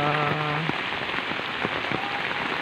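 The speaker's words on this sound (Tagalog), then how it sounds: "Maulan na panahon." Steady rain from a typhoon patters on a surface, a dense hiss dotted with individual drops, after a brief tonal sound at the start.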